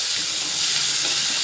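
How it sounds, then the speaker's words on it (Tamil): Tomatoes fry in hot oil in a pan, a soft steady hiss and crackle of sizzling that runs continuously and fairly quietly with no voices. "இது எண்ணெயில் நல்லா வதங்கட்டும்."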